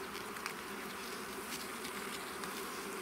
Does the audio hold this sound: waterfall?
no